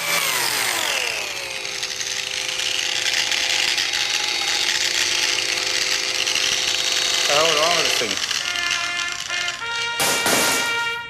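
A worn-out, smoking angle grinder runs with a steady high whine, its motor pitch wavering and dropping near the end before a brief harsh burst, heard close and loud with no one speaking over it.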